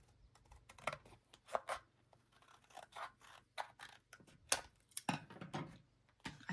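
Scissors cutting through paper scraps for a junk journal collage, with a series of close, crisp snips and rustles in irregular bursts against a quiet room.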